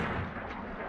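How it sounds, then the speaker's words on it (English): Cannon fire rumbles through a battle scene in the 1966 western The Good, the Bad and the Ugly, a dense, continuous roar of close artillery with no distinct separate blasts. "this cannon fire is close"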